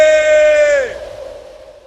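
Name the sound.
shout with simulated acoustics of the top of Everest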